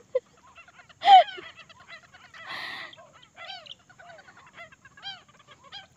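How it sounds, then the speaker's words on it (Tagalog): Wild birds call across a quiet stretch of Agusan Marsh: a loud squawk opens the clip, then a scatter of chirps, honks and whistled notes of varying pitch carries on at moderate distance, with no one speaking. "Yan yung huni ng ibon."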